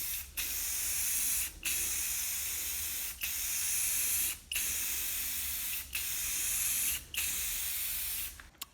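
Long, steady hissing bursts of spray paint repeat about every second and a half, each broken by a brief pause, close and loud, painting the bumper of a Ford F-350 7.3 truck.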